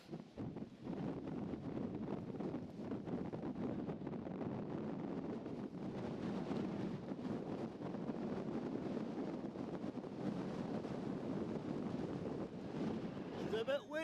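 Strong wind sweeps across Rannerdale Knotts, a Lake District fell, roaring and buffeting the microphone in a continuous, gusty rumble with no break.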